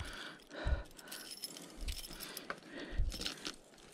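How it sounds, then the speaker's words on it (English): A ring of keys jangles up close at a trail camera lock while different keys are tried, in several bursts of metallic clinking with short pauses between them. "Let's see how many keys it takes before we can get it open."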